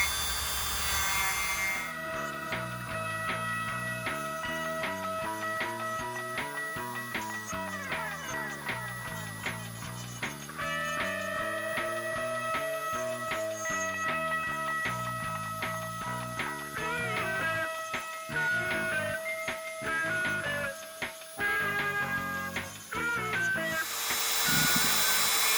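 A Dremel rotary tool grinds down plastic action figure joints with a quiet, continuous whine and rasp whose pitch rises and falls as the pressure changes, running alone without talk.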